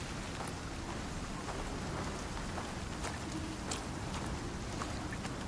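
Heavy rain in the survival game Icarus, a steady, dense hiss of downpour with scattered sharp drop crackles throughout and no clear thunder rumble standing out.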